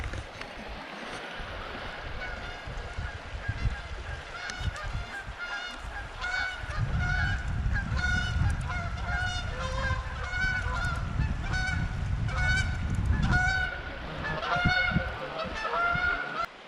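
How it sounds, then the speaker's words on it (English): A flock of geese honk repeatedly at Palmer State Park in Harford County, Maryland, a chorus of overlapping calls growing louder as they near, over a soft wash of flowing water. "There's some geese down there."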